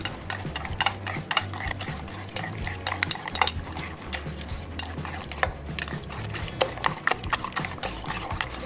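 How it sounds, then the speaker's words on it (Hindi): Beaten eggs being whisked with salt, red chilli, turmeric and coriander powder in a bowl, a steady run of quick metal-on-bowl clinks and scrapes, close and fairly loud, with no talking. "अंडों को मसालों के साथ अच्छे तरीके से मिक्स कर लें"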